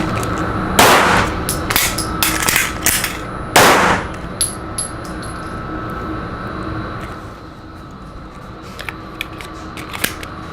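Sharp handgun shots ring out at an outdoor training range during a one-shot emergency reload drill, two loud reports close by with fainter clicks and clatter between them.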